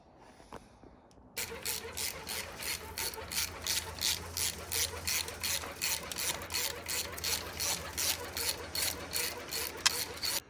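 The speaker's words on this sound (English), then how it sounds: "You probably want a deep socket. It's kind of tight in there." A ratchet with a 12-point deep socket tightens nuts while a voltage regulator is fitted to a Harley-Davidson generator, a long rapid series of close, crisp clicking strokes after a brief quiet start.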